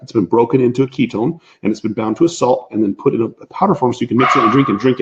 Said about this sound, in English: I apologize about my dog barking in the background